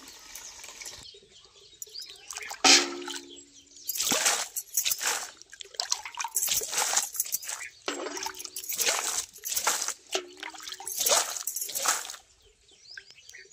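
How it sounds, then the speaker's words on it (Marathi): Water splashed by hand onto young seedlings kept in the shade in a rural yard, heard as irregular wet bursts and dribbles with pauses between them, and faint birds in the background. "तोपर्यंत मी रोपांना पाणी मारते."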